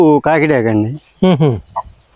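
A country chicken with a white tail, black back and red neck lets out two loud, close, drawn-out calls, the first longer than the second, then a faint short cluck.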